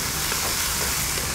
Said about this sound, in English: Now just stir fry these for about half a minute until the onion just starts to color.